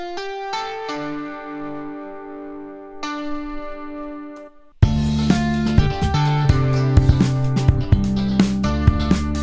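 A guitar melody drenched in 80s-style UFX reverb rings out, first as sparse sustained plucked notes, then swelling into a louder, denser arrangement with a driving low end and percussive hits halfway through.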